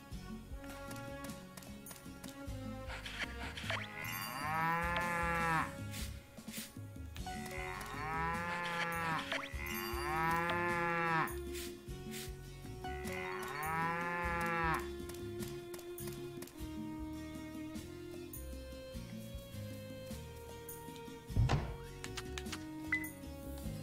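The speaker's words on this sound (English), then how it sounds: "let's go and see to the cows now" Cattle in the farming game Pioneers of Olive Town give several drawn-out moos in separate bursts over a steady looping musical background, with a brief thump near the end.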